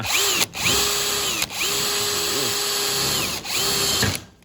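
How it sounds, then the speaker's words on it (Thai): A power drill drives screws into metal roofing sheet, whining steadily at close range in several long bursts, pitch rising and holding, with brief pauses between runs and a grinding metallic edge. "แรงมากสว่านนะครับ"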